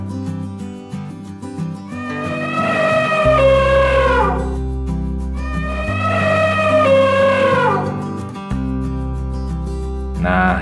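An elephant sounds two long, loud trumpeting calls a few seconds apart, each rising and then trailing off, over steady background music.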